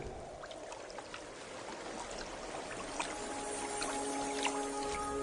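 A flowing brook sound effect: a continuous, gentle rush and trickle of water with faint bubbling, steady and moderately loud without any voices.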